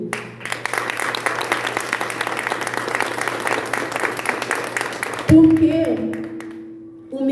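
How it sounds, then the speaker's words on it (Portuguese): Women at a church women's tea gathering applaud the men present, a steady crowd of clapping for about five seconds before it cuts off and a voice begins speaking. "dessem uma salva de palmas para os homens que estão aqui"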